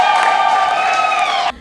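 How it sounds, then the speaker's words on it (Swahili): A crowd applauds and cheers a newly announced chairperson of a women teachers' unit at a district teachers' union general meeting in Rufiji, a dense sustained burst that cuts off abruptly. "Mpigeni makofi mengi sana."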